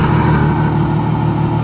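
Ferrari F12 V12 engine with its aftermarket exhaust valves closed, a loud, steady, muffled low rumble held for under two seconds with no talking.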